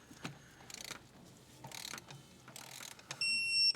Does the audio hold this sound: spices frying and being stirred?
no